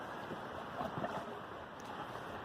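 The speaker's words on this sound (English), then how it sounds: "A windy March day. It's windy here this time of year anyway." Steady, broadband wind rushing and buffeting the microphone on a March day in a low spot in the woods, with no voices and only slight swells in strength.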